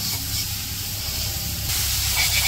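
Steady broadband sizzle of a tempering fry, onions and green chillies crackling in hot oil before greens go in, in a village kitchen, continuous and fairly loud with a brighter hiss near the end.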